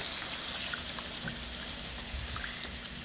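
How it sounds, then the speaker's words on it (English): Chicken broth pours steadily into a stew pot of oxtail, a continuous close splashing, trickling wash with no talking over it. "Now we're adding in 2 pounds, 32 ounces of chicken broth."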